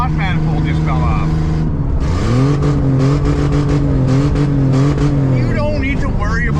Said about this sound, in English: the rickshaw is doing pretty good. I don't know how fast we're going.